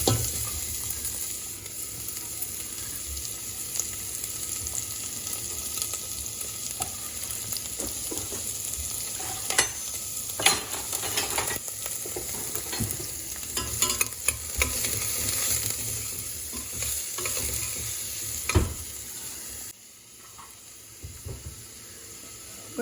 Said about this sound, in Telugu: జీలకర్ర వేసిన తర్వాత ఆనియన్స్ వేస్తాను.